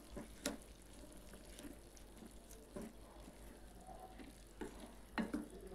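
Quiet scraping and clinking of a spoon stirring vermicelli upma in a pan, a few distinct strokes over a soft simmering hiss.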